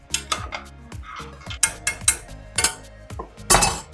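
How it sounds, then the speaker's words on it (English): A chicken and dumplings stew is stirred in a pot, giving a run of distinct clinks and scrapes of a utensil against the metal, loud and close, with no talk. "Give it a stir."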